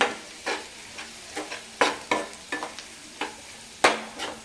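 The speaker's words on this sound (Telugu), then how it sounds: "అన్నీ మొత్తం ఒకసారి కలుపుకోండి." Spices are stirred through a veg manchurian mixture in a pan, with a series of distinct scraping strokes, some louder than others, over a faint sizzle close by.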